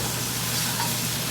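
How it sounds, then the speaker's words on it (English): Sesame oil sizzling as it is stirred through noodles in a hot wok for Shanghainese stir-fry, a steady hissing, crackling fry with no break. "Top it off around the wok and then stir it up"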